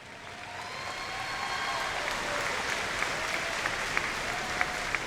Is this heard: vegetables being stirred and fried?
no